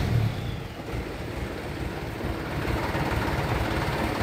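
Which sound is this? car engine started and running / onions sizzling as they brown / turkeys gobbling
car engine started and running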